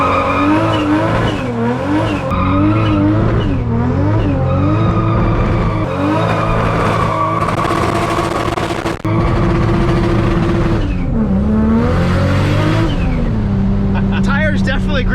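A Toyota Supra fitted with a bigger turbo does a burnout, its engine revving hard and dipping in pitch under a continuous loud tire squeal, close by, with voices talking over it.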